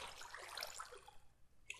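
Water flowing and trickling in Minecraft, a soft, continuous bright wash of liquid sound that fades toward the end before a short renewed burst, faint and with no talking.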